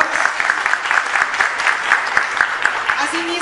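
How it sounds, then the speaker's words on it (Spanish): Audience applause at a Mexican press conference for a cumbia group, a steady crowd clapping that fills the room evenly, with a rhythmic clap pattern and some voices mixed in. "Aplausos, por favor."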